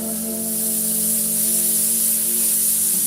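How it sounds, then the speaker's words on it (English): An airbrush sprays Createx paint in a steady, close, bright hiss that holds even throughout, with a faint hum underneath and no talking. "I'm using my left hand to hold the airbrush"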